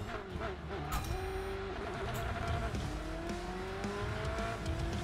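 An Alfa Romeo 4C in a racing video game, its engine droning and rising through revs with a faint tire squeal, while a person talks over it.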